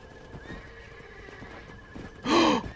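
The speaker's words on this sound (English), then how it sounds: "It's a horse." A warhorse in the zombie-western game Red Dead Redemption: Undead Nightmare lets out a loud, close whinny after a few soft hoof clops and snorts.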